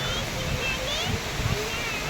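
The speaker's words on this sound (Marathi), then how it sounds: "आता पोचलोत आम्ही धबधब्यावर" The Pen Kasmal waterfall gives a steady, dense roar of rushing water that fills the scene evenly, with faint voices outdoors.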